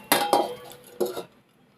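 A lid clinks down onto a pan of Bengali pitha cooking on a low gas flame: two quick metallic clinks, a pause, then a final settling clack, close and fairly clear with no talking.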